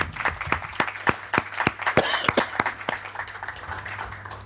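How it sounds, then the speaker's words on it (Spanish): Applause after a philosophy of science lecture, sparse and fairly faint, with distinct individual claps at an uneven rhythm from a small audience, slowly thinning out over a low steady hum. "Muy bien, un aplauso"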